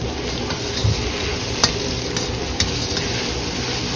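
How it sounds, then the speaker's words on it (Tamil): An egg fries in a pan during outdoor camp cooking by Pangong Tso lake, a steady close sizzle with faint occasional ticks of a utensil, no voices. "முட்டை பொரியல் ரெடி ஆகுது."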